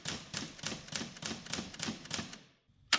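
Olivetti Linea 98 office typewriter in use, a steady run of about a dozen crisp key strikes in quick rhythm, close and fairly quiet, ending in a short pause and one final clack.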